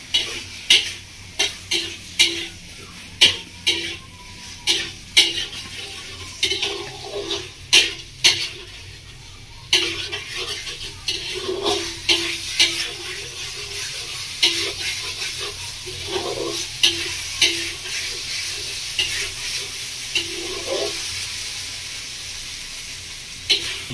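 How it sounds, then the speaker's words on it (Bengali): Masala with Kashmiri chili powder stir-fried for a home-style fish curry with bhindi and potato: steady sizzling with frequent clinks and scrapes of a spoon against the pan, close and alone. "হালকা মশলাটা কষিয়ে নেব।"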